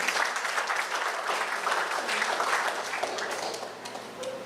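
A crowd applauds steadily at a political party conference, a dense wash of clapping that holds for several seconds before tapering slightly.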